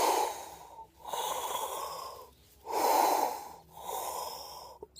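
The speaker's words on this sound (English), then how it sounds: "and then I exhale." Forceful breaths during a Kundalini pranayama and Wim Hof style breathing session, four long airy inhales and exhales in a slow steady rhythm, close and loud with short pauses between.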